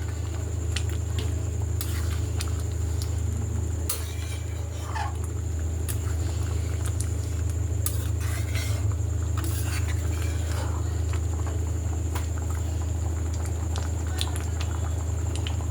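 Ghugni simmers in a pot, bubbling steadily with a soft continuous patter of small pops and an occasional louder plop, sustained at close range under a low background hum.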